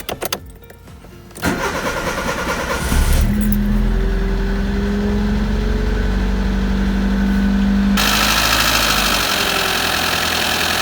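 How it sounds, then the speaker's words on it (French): A Citroen AX or Peugeot 106 engine is restarted after a coolant hose change: a short starter crank catches, then settles into a steady, close idle with a constant low hum. "on éteint et on redémarre et on laisse tourner 5 minutes"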